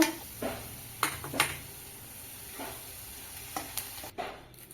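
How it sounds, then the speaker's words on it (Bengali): Chopped onions frying in a pan, a low steady sizzle with a few louder stirring scrapes and clinks at intervals, close by with no talking. "পেঁয়াজ কুচি লাল লাল করে ভেজে নেব"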